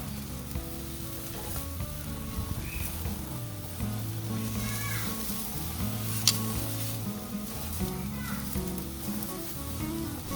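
Steaks sear on a hot grill at 430 degrees, making a continuous close sizzle and hiss that holds steady throughout, with a tonal musical bed running underneath.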